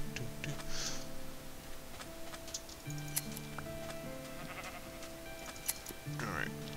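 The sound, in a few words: sheep bleating in Minecraft (Feed The Beast) video game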